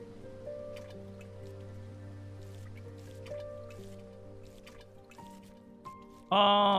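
Water drips and trickles while plants are watered in the game We Harvest Shadows, with soft scattered drops over quiet background music that ends in a brighter tone.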